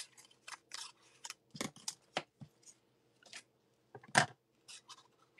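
Large scissors snip through material in a series of short, crisp cuts, some clustered in quick pairs, close and fairly quiet with brief pauses between strokes.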